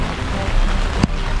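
Steady rain falling outdoors during a walk in Manchester, a dense even hiss of drops with one brief sharper knock partway through.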